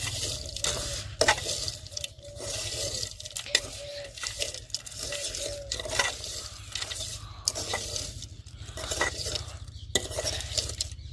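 A spoon stirs onion and tomato around a hot pan, with continuous scraping and clinking against the metal under a soft sizzle, close and steady throughout with no talking.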